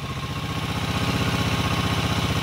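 Skygo King 150cc motorcycle engine idling steadily during carburetor tuning, a close, loud, even mechanical putter with fast regular pulses and a slight clatter, no voices.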